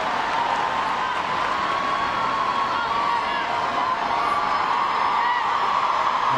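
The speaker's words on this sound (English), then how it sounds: "And has the crowd on their feet here" A large stadium crowd at a women's international soccer friendly, USA versus Ireland, cheering and roaring in a steady, sustained wash of sound from a distance, fairly loud, with no talk rising above it.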